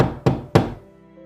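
Two firm knocks land on a door about a third of a second apart, each a dull thump that fades quickly and leaves quiet behind, with no voices.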